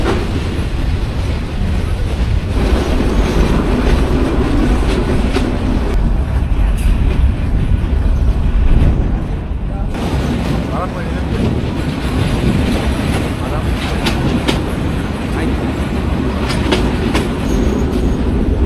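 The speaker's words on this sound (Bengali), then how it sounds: "এখন থেকে একদম এরকম ঘন্টায় অনেকটা 10 কিলোমিটার এরকম একটা গতি নিয়ে আমাদের ট্রেন ছুটবে রমনা বাজারের দিকে" The Ramna local train runs slowly along tree-lined tracks in Bangladesh, a loud continuous rumble with rhythmic clatter of wheels over rail joints and occasional squeals, heard from inside the carriage.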